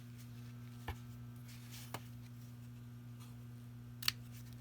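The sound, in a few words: scissors trimming card paper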